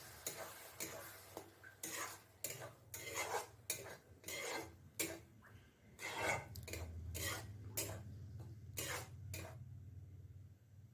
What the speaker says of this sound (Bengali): ভালো করে নাড়াতে থাকবেন যেন লেগে না যায়।